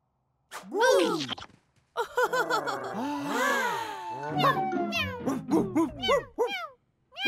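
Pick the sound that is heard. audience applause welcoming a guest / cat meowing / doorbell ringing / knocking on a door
cat meowing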